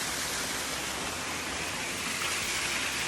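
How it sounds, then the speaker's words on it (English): A small waterfall on an overland hike gives a constant, even hiss of falling water, faint and steady, with no talking. "we come across this, a beautiful little waterfall"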